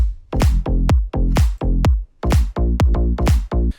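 A punchy slap house beat made in FL Studio with heavy kicks and pumping, sidechain-ducked synth chords that swell between hits in a steady four-on-the-floor rhythm, loud and upfront.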